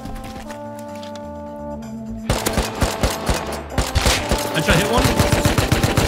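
Rapid automatic AK rifle fire in the survival game Rust, a dense string of sharp reports that starts abruptly about two seconds in and keeps up loud to the end, with a voice briefly talking over the early part.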